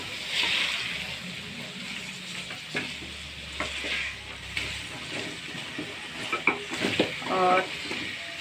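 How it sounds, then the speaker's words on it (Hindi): Potatoes and carrots stirred while frying in masala, a soft sizzle and hiss under repeated scraping strokes of a spoon in the pan, with louder clattering stirs toward the end. "और इसको हम मिक्स कर लेंगे"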